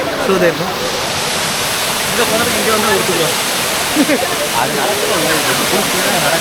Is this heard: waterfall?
yes